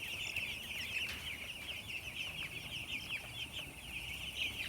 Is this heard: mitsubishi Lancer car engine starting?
no